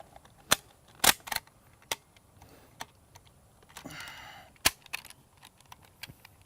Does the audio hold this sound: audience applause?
no